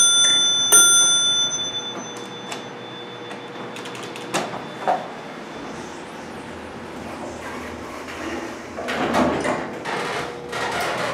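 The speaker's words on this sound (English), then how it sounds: "Bell's loud." Bell of a customized 3,000-pound Delaware hydraulic elevator at a seaside hotel, heard as a loud, sharp ding early on with a ringing tail, followed by scattered clanks and mechanical rumble of the car.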